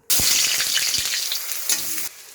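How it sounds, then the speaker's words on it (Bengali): Chopped onion frying in hot oil in a pan, after dried red chillies were fried, sizzles loudly and steadily with a few stirring scrapes, no voices. "এখন পেঁয়াজ কুচিটা ভেজে নেব"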